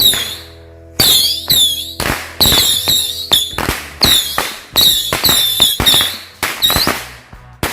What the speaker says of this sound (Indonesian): kita nyalain mercon Patriot Missile 25 shot